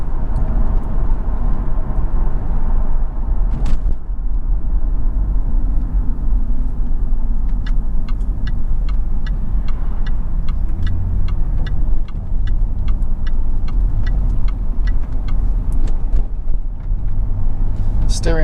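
Inside a 2004 Jaguar XKR coupe with the 4.2 supercharged V8 cruising, a low steady engine and road drone fills the cabin, subdued and constant, beneath someone talking throughout.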